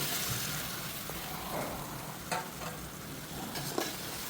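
Onions with ginger garlic paste fry in a pan for chicken dum biryani, a steady sizzle with occasional stirring scrapes and clicks, close up and alone.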